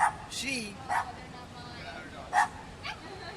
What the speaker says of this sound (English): Those dogs are they're a bit loud there